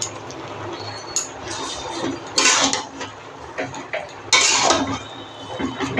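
Spinach and gourd greens get stirred in a pan, with irregular clinks and scrapes of a utensil against metal over a low background hum, in bursts of louder clatter.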